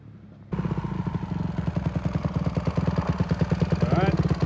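A Honda CRF150R dirt bike with a big-wheel conversion starts up abruptly and runs with a rapid, choppy off-road engine putter, revving slightly near the end, loud and close.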